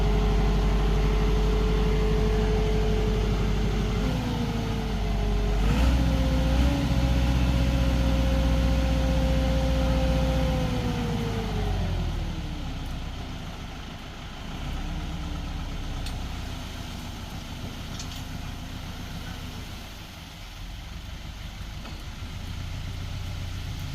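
Tractor engine at a bungalow building site, a steady droning idle that rises in pitch as it revs, then sinks back to a lower idle, close and continuous without talk.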